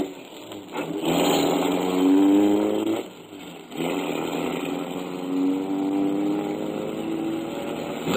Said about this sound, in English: Dawson and I drove out to Somerville Avenue.